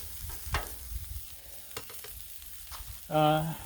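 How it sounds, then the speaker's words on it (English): Pepperoni sizzles softly on a Blackstone griddle outdoors, with a quiet crackle and a few light scrapes near the cook, and a short voiced sound at the end. "pepperoni's already cooking."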